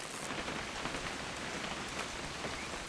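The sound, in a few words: rain in the video game What Remains of Edith Finch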